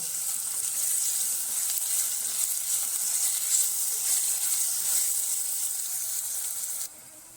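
Ginger, garlic and green chilli paste fries with browning onions in a pan for prawn biryani, producing a continuous, even sizzle up close that cuts off abruptly near the end.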